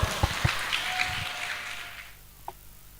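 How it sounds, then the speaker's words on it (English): Audience applause at an international seminar on Islamic education and peace: a dense patter of clapping for the speakers that fades out after about two seconds, leaving a quiet room with one faint knock. "Please give a round of applause to both"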